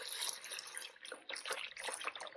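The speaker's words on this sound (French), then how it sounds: "Et on va mettre de l'eau la plus chaude possible." Very hot tap water splashes and trickles into a container to test a car thermostat, a steady bright rushing pour with small fluctuations, close and moderately quiet, with no talking.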